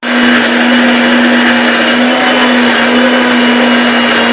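A mixie blender grinds carrot and cardamom with a little water, running loudly and continuously with a steady high whine and no pauses.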